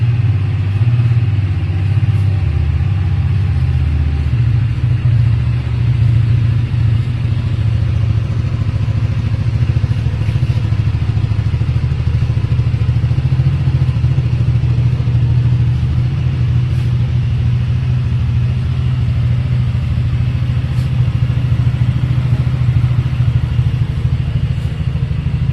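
A used motorcycle at a bike dealer, its tyres and gears in good condition, idles steadily for the whole stretch with a loud, low, even engine rumble and occasional faint clicks, with no one talking.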